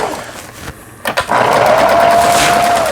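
A Kenmore sewing machine starts after a few clicks and runs steadily at speed, a close, even mechanical whirring hum that holds for nearly two seconds.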